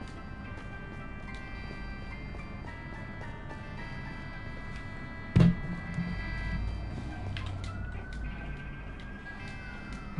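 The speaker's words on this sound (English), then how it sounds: "Oh, ambulance." A distant ambulance siren wails faintly under steady ambient noise in a Minecraft game, with a sharp thud partway through and a rising tone near the end.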